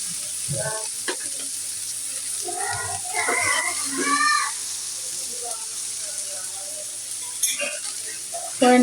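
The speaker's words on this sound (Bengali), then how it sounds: "এখন আমি ঢেলে দেবো ভেন্ডিটা।" Okra poured into a hot pan with turmeric and salt, sizzling loudly and steadily, with scraping clatter and brief voices in the background.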